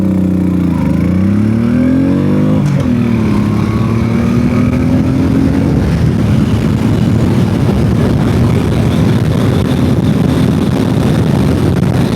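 A Honda Shadow 1100 motorcycle engine revs hard and accelerates from a standing start, pitch climbing through gear shifts before settling into a loud, steady roar at high speed.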